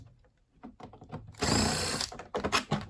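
A power screwdriver backs Phillips screws out of the end caps of a Gtech Air Ram AR2 vacuum cleaner, with one loud whirring burst of about half a second and a few shorter buzzes and clicks around it.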